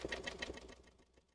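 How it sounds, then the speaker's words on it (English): Serger sewing machine running briefly to start a thread chain, a quick rhythmic mechanical chatter with about four pulses that fades out, close and fairly quiet with no talk. "anytime you start with serging, you want to start with a chain"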